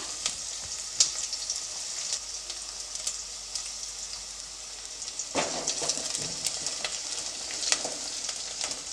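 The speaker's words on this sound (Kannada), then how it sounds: "ಈಗ ಈರುಳ್ಳಿ ಫ್ರೈ ಆಗಿದೆ" Onions frying in oil in a pan, a continuous crackling sizzle with a burst of louder stirring and spattering partway through.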